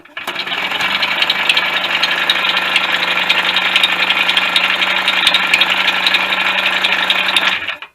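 A 1988 Yamaha DT50MX engine runs steadily for several seconds, sounding rough and rattly with a busy mechanical clatter, close and loud, before cutting out abruptly at the end.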